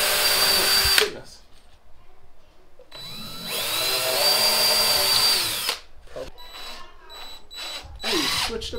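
Power drill driving screws into a homemade comic wall mount, two long whining bursts with a shorter one at the end, loud and close, separated by brief quiet pauses.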